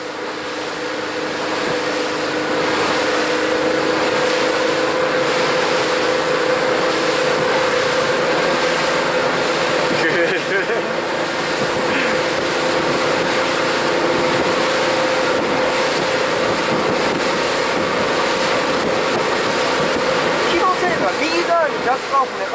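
A fishing boat's engine off Kada, Wakayama runs loud and steady, holding a constant drone with water and hull noise throughout, with no voices over it.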